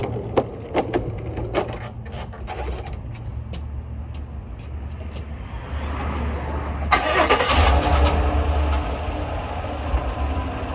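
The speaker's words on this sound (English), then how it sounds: "let me go ahead and start the truck" A GMC Sierra pickup's engine cranks and catches about seven seconds in, rising into a loud, steady idle after a stretch of quiet clicks and knocks nearby.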